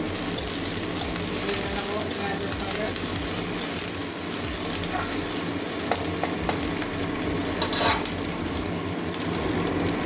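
Chopped green chillies frying in a pan with Malabar spinach, a continuous crackling sizzle close by with occasional spatula taps and stirring scrapes throughout.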